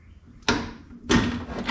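A 1959 Dodge Coronet car door being rolled on a chair and slid into place during reassembly gives two close, loud broadband scraping thuds about half a second apart, each trailing off, with no talk.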